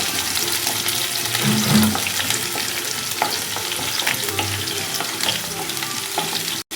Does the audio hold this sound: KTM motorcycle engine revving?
no